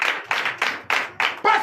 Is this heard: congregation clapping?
yes